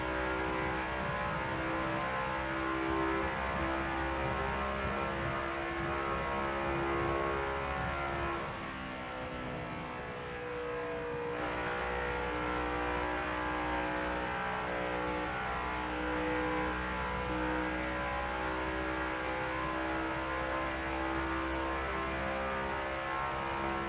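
From the cockpit of a NextGen race car in NASCAR Heat 5, the engine roars loud and steady, dipping briefly as the revs fall and then climbing back to a sustained harmonic drone.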